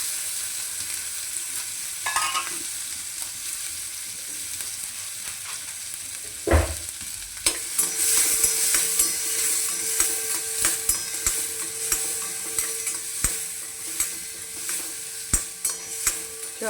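Raw tomatoes with green chillies and a pinch of turmeric cook in a pan, giving a close, continuous sizzle with a loud clank partway through and then regular stirring scrapes.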